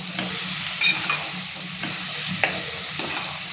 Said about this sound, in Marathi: आता मस्त मिक्स करून घेऊयात.